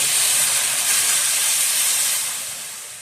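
Onions sizzle in a hot pan for misua with patola, a loud, steady bright hiss that holds evenly, then eases slightly toward the end.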